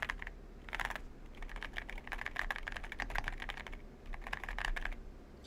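Typing on a newly assembled custom-built mechanical keyboard, with fast clicky keystroke bursts in rapid runs separated by short pauses, close and fairly quiet.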